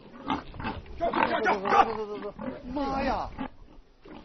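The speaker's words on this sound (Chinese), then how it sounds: "没想到老母猪围着我们追了3圈" A wild sow chasing people grunts and snorts in rough, uneven bursts close by, mixed with startled human voices and exclamations throughout.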